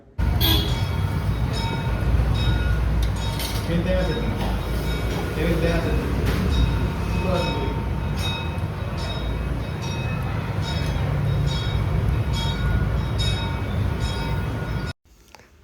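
Train ride on the way to an event, with a steady rumble of the carriage running throughout, faint rattles and occasional clanks close by, ending abruptly.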